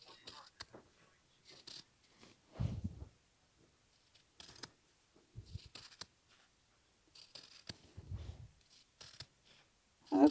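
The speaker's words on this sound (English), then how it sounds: "I'm just cutting the seam off" Scissors cut the seam off a flannel sleeve in scattered short snips and clicks, close but quiet, broken by pauses, with hushed talking and small handling noises in between.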